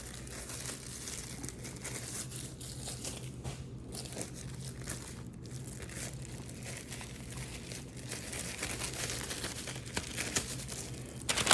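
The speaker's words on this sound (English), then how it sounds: "So let's put these gloves on." Thin plastic hair-coloring gloves crinkle and rustle as they are pulled onto hands, close and fairly quiet, with continuous irregular crackles lasting several seconds and no talking.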